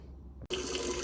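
Tap water gushes into a sink while raw shrimp are washed, a brief cut of near silence giving way to a loud, close, even stream of running water.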